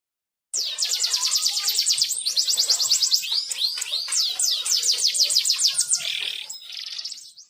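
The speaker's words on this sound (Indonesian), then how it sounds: "Kenari roller." A roller canary, a German breed, sings a long, continuous song of rapid rolling trills and chirped phrases, clear and close after a brief silence, with no other sounds.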